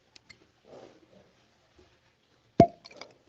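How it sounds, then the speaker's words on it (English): A cork pulled from a Keeper's Heart Irish-American whiskey bottle gives one crisp, hollow pop, close by, after a few seconds of quiet handling noise and followed by faint rustling. "That's probably the best cork pop I've ever had, except maybe on champagne."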